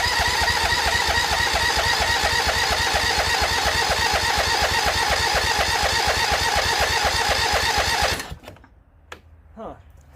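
A small engine on a free lawn tractor runs on only one cylinder, a loud, close, steady rapid chugging that cuts out abruptly near the end, leaving quiet with faint clatter.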